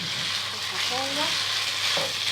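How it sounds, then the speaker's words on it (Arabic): Rice sautéing with ghee and salt in a pan gives a steady, close sizzle with faint stirring scrapes, continuous throughout with no talk. "اهم حاجة تشويح الرز كويس مع السمنة والملح علشان كل حباية رز تتغلف بالسمنة"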